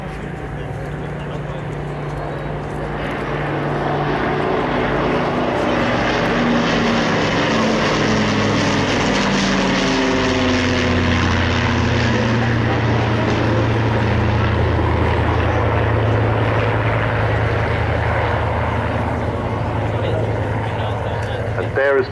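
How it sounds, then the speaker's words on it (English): Four Rolls-Royce Merlin engines of a Lancaster and a Rolls-Royce Griffon in a Spitfire flying by in trail: a deep, loud, sustained propeller drone that swells in and holds steady throughout. "enjoy the combined sound of the 4 Rolls-Royce Merlins and the 1 Rolls-Royce Griffon engine as they fly by in trail"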